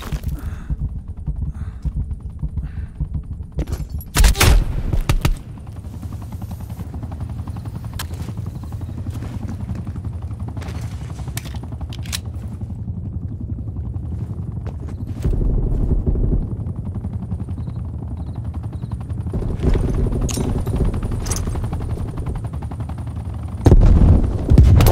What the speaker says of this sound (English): VIP is taking fire.